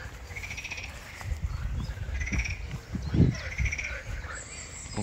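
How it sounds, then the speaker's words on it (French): Common wood pigeon and common chiffchaff sing outdoors, soft low cooing over repeated thin high chirping phrases, near and moderately loud, with no talk. "on a entendu le pigeon ramier, le pouillot véloce"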